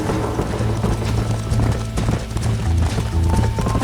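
Horse hooves galloping in the video game Red Dead Redemption: rapid rhythmic clip-clop of hoofbeats, close and prominent, with a brief whinny and faint accompanying background sounds.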